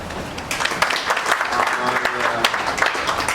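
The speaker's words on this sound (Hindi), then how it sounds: "तो आप लोगों के लिए बहुत बहुत तालियां।" Applause from an audience at a gathering in India, a short burst of clapping that rises after half a second and continues steadily to the end, with some voices mixed in.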